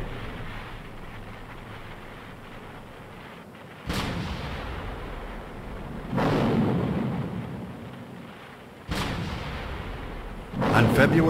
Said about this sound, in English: the shelling began. The morning erupted into a firestorm of shells and rockets.